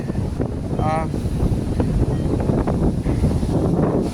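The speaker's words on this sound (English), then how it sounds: "I hope the wind is not too bad in your ears." Strong wind buffets a microphone on a beach, a steady loud rumbling roar throughout, with a brief tonal whine near the start.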